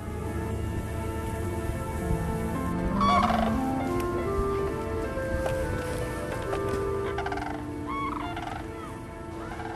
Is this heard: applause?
no